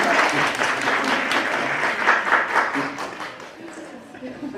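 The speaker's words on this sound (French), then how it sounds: "Vous pouvez l'applaudir" An audience applauds a guest invited on stage as Isabeau of Bavaria, a few seconds of scattered clapping alongside people talking.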